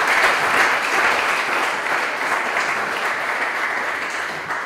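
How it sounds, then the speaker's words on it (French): A loud, dense burst of audience applause for a contestant on a Lubumbashi quiz show, steady and sustained throughout with no voices. "Merci d'applaudir Norbert"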